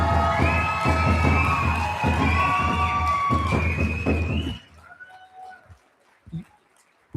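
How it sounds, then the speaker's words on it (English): A large crowd at the 2026 Cankdeska Cikana Community College graduation ceremony cheers loudly, with whoops, high whistles and applause, then the noise drops off sharply into scattered claps and a few last calls. "let's give them another round of applause"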